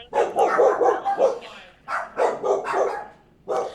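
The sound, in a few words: dog barking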